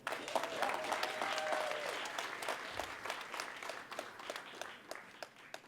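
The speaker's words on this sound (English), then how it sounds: "Let's just do another round of applause." Applause from an audience at a college horticulture complex ribbon cutting, steady crowd clapping throughout with a few brief voices mixed in.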